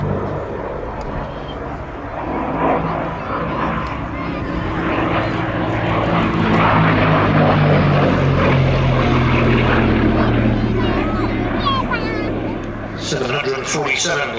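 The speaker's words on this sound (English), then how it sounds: "And here she is now, the RAF's last biplane fighter from 1937, the Gloster Gladiator." A 1937 Gloster Gladiator biplane fighter, the RAF's last biplane fighter, passes overhead at an air display, its piston engine and propeller droning loud and steady, swelling and then fading as it flies by.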